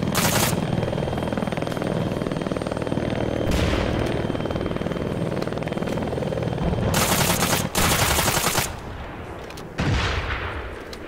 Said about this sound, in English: It sounds like a fucking big chopper then.